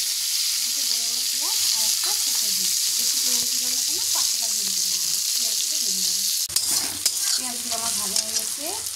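Garlic and onion fry in a pan for a goat curry, a steady close hiss of oil with a sharper burst of sizzling and stirring near the end, while someone talks over it.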